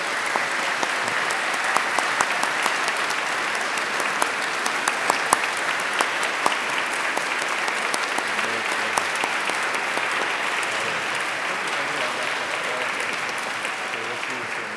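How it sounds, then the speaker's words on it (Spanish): A congregation at a Sunday Mass applauds for Padre Charlie, a long, steady round of clapping from many hands that fills the church evenly and only eases slightly toward the end. "un aplauso por Padre Charlie"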